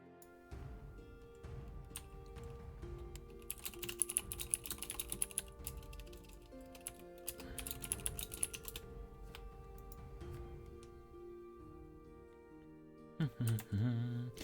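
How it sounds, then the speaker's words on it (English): Rapid clacking on a mechanical keyboard in dense bursts of sharp clicks, with pauses between runs and a few louder knocks near the end, heard close with some background sound. "Sorry for all the clicky clacking, by the way. Mechanical keyboards, very loud things, you know?"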